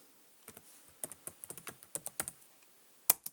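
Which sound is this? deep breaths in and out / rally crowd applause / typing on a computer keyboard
typing on a computer keyboard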